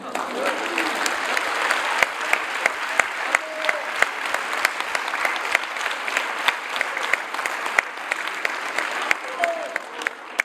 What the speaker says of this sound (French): Profitez encore de ces applaudissements